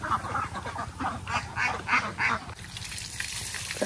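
Ducks quacking inside a blue-netted enclosure on a farm, a run of about a dozen nasal quacks in quick succession, moderately close, then fading into quieter ambient noise.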